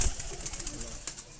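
Royal Teddy baby pigeons coo softly at close range, with faint rustling and a few low murmurs over quiet room noise.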